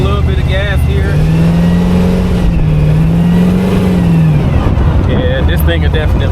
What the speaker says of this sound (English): I'm gonna give it a little bit of gas here.